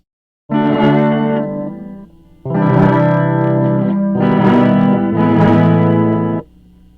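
Heavily effected electric guitar chords swelling in with a reversed reverb mimicking a whammy bar, three long sustained bursts that rise and cut off, loud and alone.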